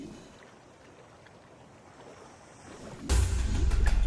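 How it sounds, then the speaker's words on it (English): A sudden, loud splash erupts close to a boat in warm, prey-rich waters where young sharks hunt. Quiet wind and water come first, then a burst of churning water continues to the end. "Splash in the water right near the end."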